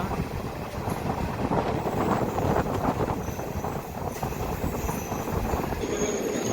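A DEMU local train departs platform three at a suburban station near Malkajgiri, its steady rumble and wheel noise carrying throughout with faint squeals.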